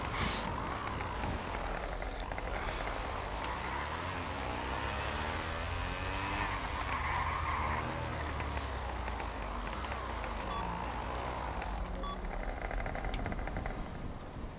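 A moped engine drones loud and continuous at speed throughout, a steady buzzing roar with shifting pitch as it rides past, accompanied by heavy wind rush and no speech.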